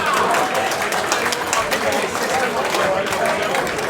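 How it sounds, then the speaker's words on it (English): An audience at a boxing evening between Western Counties and The Army applauds a boxer, dense sustained clapping and crowd noise throughout, with a voice speaking over it. "Give this man a massive round of applause, ladies and gents"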